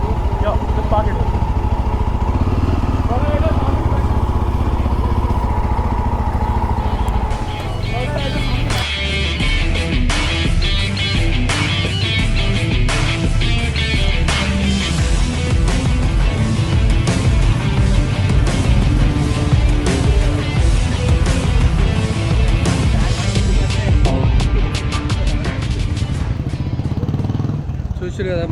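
Several motorcycles idle and rev together at a bikers' event in Hyderabad, a loud continuous engine rumble with sharp throttle bursts, with people talking underneath.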